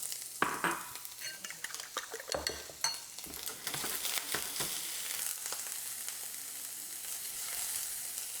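A little onion cooking in a heated pan for a breakfast quesadilla, irregular stirring scrapes and taps at first, then a settled, quieter sizzle that carries on steadily.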